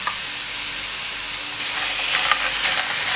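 Tomato sauce with two spoonfuls of tomato paste is stirred while frying in a pan, giving a steady close sizzle and hiss that grows slightly busier toward the end, with soft scraping and no voices.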